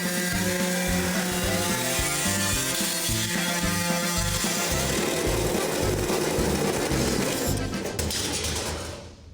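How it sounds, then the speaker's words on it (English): A pneumatic body saw cuts through a car's package tray, a loud, close, rapid reciprocating buzz with chattering metal that runs steadily for several seconds and then winds down at the end. "it's time for the soothing sounds of the body saw"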